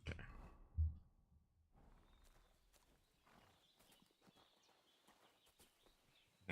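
A horse's hooves clip-clop in a medieval video game, slow, soft and fairly close, the steps faint and spaced against a quiet background.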